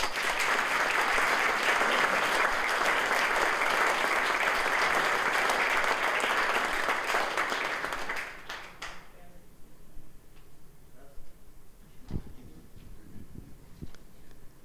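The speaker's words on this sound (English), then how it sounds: "Why don't we give Abby another round of applause?" Audience applause for a speaker at a museum evening talk, a steady dense wash of clapping for about eight seconds that fades into a few scattered claps and quiet room noise.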